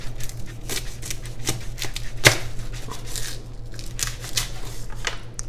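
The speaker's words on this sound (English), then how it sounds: "You take one whole bulb of garlic and you cut off the top." A knife cuts the top off a whole garlic bulb, a close run of crisp crunchy slicing and snapping sounds with one sharp crack partway through.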